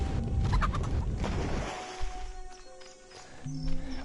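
Chickens clucking and gobbling in a video game, loud squawks over game noise and effects, fading into quieter electronic tones.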